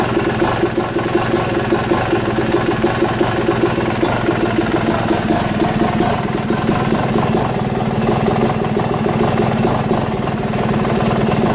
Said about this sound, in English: Let's see if she's gonna die or sit here and idle nice and low.